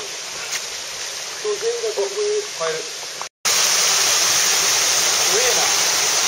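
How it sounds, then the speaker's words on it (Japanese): Kurotaki waterfall on the Takagoe river pours as a constant broadband rush, growing louder and closer after a brief cut, with voices speaking briefly over it early on. "黒滝です。"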